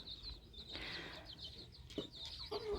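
Soft, close clucking from a small hen, a few short murmured calls over quiet background noise.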